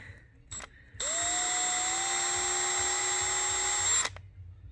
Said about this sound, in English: So we're gonna drill these air correctors to 115.